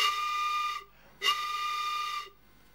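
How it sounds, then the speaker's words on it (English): Two loud, steady blasts from a homemade stopped-pipe whistle, the open end capped by a hand, each a sustained breathy tone with a rich overtone series, separated by a short silence. "If I put my hand over the end to make a stop pipe and just give a blow,"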